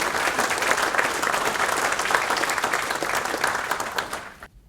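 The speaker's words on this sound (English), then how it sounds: "So big round of applause for those" A crowd at a safety charter event gives the night's sponsors a big round of applause, sustained clapping from many hands that thins out and stops abruptly at the end.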